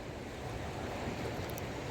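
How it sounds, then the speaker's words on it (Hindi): Flood water of the Ganga surges against the ghat at Haridwar in a steady, loud wash of waves with wind noise and no voices. "ये धीरे धीरे ऐसी लहर जैसी आ रही है, ऊपर को बढ़ रहा है पानी"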